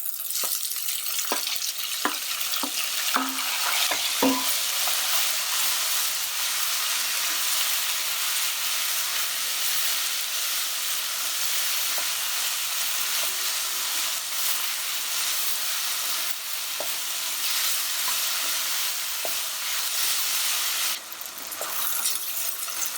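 Tomatoes hiss and sizzle in a pan of chicken curry, a loud steady frying rush with sharp spoon clinks and scrapes against the pan early on, then a long continuous sizzle with occasional stirs.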